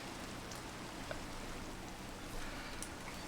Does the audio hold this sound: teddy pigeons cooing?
no